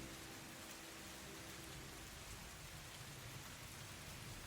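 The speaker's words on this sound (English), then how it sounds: "But the skies are filled with rain and clouds" Steady rain falls without a break, a dense even hiss of drops on surfaces with a soft low rumble underneath, heard alone as quiet ambience during a tabletop actual play session.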